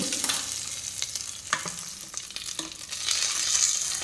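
Mustard seeds, curry leaves and dried chillies sizzle and crackle in hot oil as a tempering for a buttermilk curry, a steady close hiss with scattered pops that grows louder near the end.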